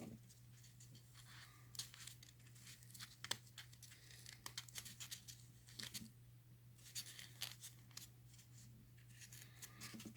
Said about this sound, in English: So I'm just gonna keep snipping away.